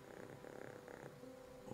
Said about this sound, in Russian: она мурчит